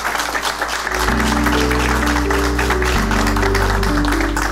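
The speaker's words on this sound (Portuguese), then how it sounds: "peço uma forte salva de palmas a todos" Applause at an awards ceremony in Santa Cruz do Sul, where real-estate brokers receive their professional cards. Sustained, even crowd clapping runs over a loud, steady low droning tone.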